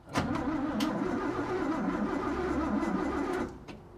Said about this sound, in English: Well, starter works.